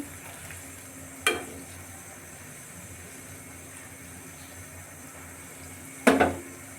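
Egg curry simmers in a pan with a soft, steady sizzle beneath two sharper clinks as a utensil stirs and scrapes the pan, close and fairly quiet, with no voices.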